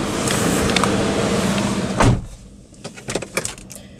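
A glove box in a 2019 Honda City ZX is opened inside the cabin: a rustle, then a single firm plastic clunk, followed by a few light clicks and taps as the lid settles.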